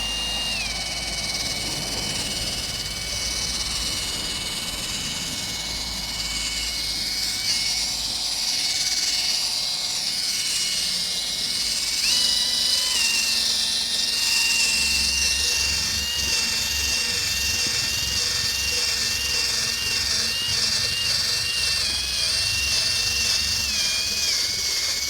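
A DCA 12V cordless buffer polisher runs steadily on speed 1 while it polishes out scratches, giving a continuous whirring motor whine with a shifting high-pitched tone that lasts the whole stretch, with no talking.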